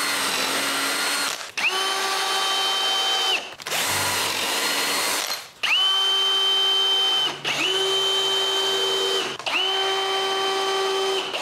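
A power drill drives screws into a cedar patio table in several long bursts, each a steady high whine with brief pauses between, close and loud with no talking.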